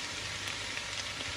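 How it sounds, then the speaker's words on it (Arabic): Onions and spinach frying in a pan give a steady, moderately loud sizzle that runs evenly throughout with no voices. "شوفو كيفاش تقلى البصل ديالنا"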